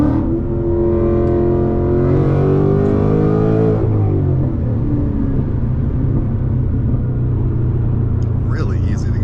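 A supercharged 2025 Whipple-equipped Mustang GT pulls hard in third gear, a loud, close engine roar whose tone climbs steadily and then drops at a shift, with a continuous heavy rumble throughout.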